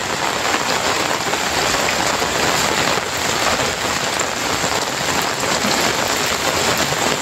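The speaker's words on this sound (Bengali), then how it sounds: "সকাল সকাল প্রচুর বৃষ্টি পড়ছে," Heavy morning rain falls on a road in a steady, dense hiss that stays loud and constant throughout, with no voices.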